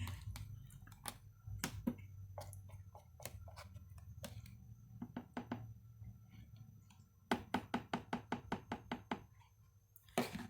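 A food processor chops lentils for veggie burgers in short pulsed bursts, its low motor whir broken by sharp, rattling clicks and knocks, closer and denser near the end.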